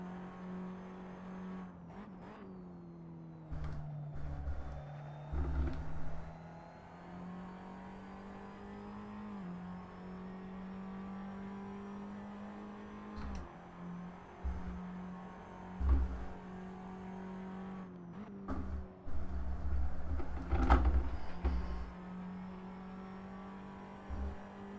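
A Tatus FA01 race car laps the Donington National circuit, its engine droning steadily from onboard with rising and falling pitch through gear changes and occasional bursts, moderately quiet overall.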